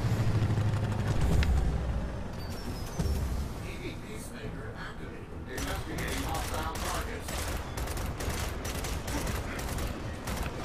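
Weapon fire in the Gears of War 4 campaign, a busy stretch of gunfire and rattling action under speech, with rapid bursts of shots clustering in the second half.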